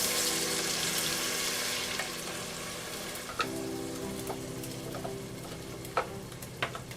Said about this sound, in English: And fry it for about 10 minutes